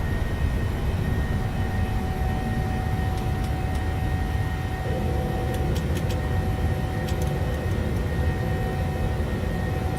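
A PMDG 737-700 in a flight simulator climbing after takeoff, a steady, loud broadband engine roar with a constant drone and a few faint clicks, no voices.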